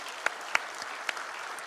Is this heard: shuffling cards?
no